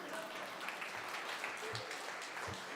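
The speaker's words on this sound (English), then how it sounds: "You can applaud to that because that's a big deal." Steady applause from a church audience, a dense even wash of clapping throughout, moderately loud, with a faint voice underneath.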